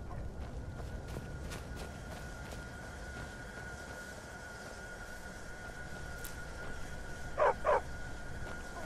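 A dog in the game Skyrim gives two quick, sharp barks close together near the end, rising over a steady low game ambience that runs throughout.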